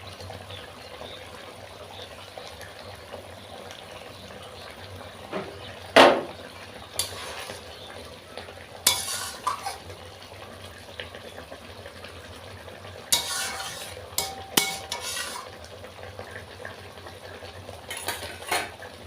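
Koi fish curry (tel koi) is stirred in a pan as chopped coriander goes in, with sparse utensil scrapes and clinks over a low, quiet sizzle.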